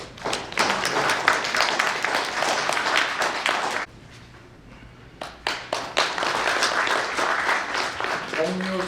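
Audience applause at a book launch for the book "강 따라 물 따라" (Along the River, Along the Water), with dense clapping from a seated crowd, a brief lull of scattered claps midway, then a renewed full burst.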